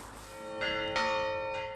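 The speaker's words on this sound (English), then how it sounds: "in Avantus, the bells toll a warning" Church bells in a Greek village toll a wildfire warning, a sustained ringing tone with two brief louder strikes rising over it, moderately distant and alone.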